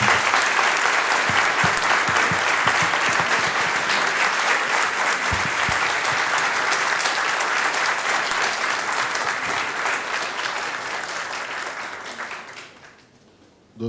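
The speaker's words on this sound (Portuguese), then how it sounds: "pelo barulho dos aplausos, você ouviu o quanto a plateia gostou da palestra" Lecture audience at a legal forum in Lisbon applauding after a talk, a dense, sustained clapping crowd holding steady for about twelve seconds before fading out, with a lone voice starting at the very end.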